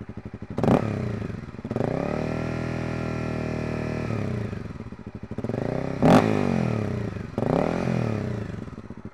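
A Honda CRF250L dirt bike fitted with a Yoshimura RS4 exhaust and spark arrestor idles and revs in several loud, close bursts, each throttle blip swelling into a sustained drone before settling back.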